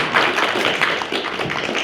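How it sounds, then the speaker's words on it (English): A small class claps for a student named Gavin, a short burst of light, scattered hand claps in a room, fairly close and fading slightly toward the end. "Give Gavin a round of applause"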